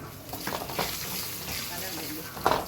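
Two chillies hit a pan of frying curry, giving a busy close sizzle with a few soft stirring scrapes and a brief sharper crackle near the end.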